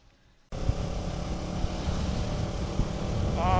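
2016 Kawasaki Ninja 650R (ER6f) carrying a passenger, ridden in fifth gear: after a short quiet moment, a constant engine drone with heavy wind rush fills the sound and slowly builds in loudness.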